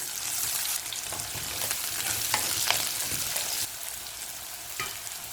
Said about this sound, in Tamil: கொஞ்சம் கருக வதங்கணும்